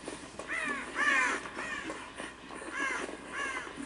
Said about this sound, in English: And crows.